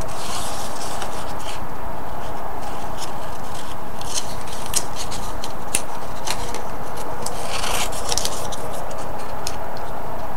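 Scissors fussy cutting patterned paper for an altered wooden tray craft, producing a steady run of soft snips and paper rustles close up as the sheet is turned, with no talking.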